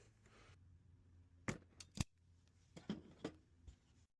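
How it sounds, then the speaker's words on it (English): Cutters snip a fuse lead from a shop vac fuse, giving a few sharp, close clicks and snaps spaced over a few seconds against a quiet background. "we're going to snip this lead here"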